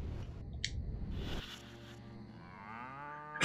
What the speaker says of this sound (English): Scan a radioactive cow.